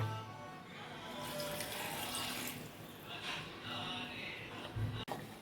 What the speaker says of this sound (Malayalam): അതിലേക്ക് ആവശ്യത്തിന് ആവശ്യമായ പച്ചവെള്ളം ഒഴിക്കുക